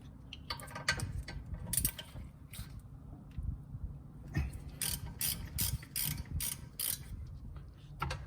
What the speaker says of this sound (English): Get your T45. Remove those two nuts.